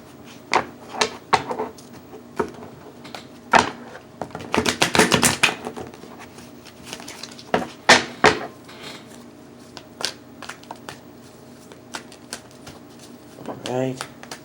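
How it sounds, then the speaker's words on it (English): Repeated crisp papery riffles and taps of tarot cards being shuffled and placed, close up, with short bursts of rustling and a faint voice near the end. "Give it one good shuffle."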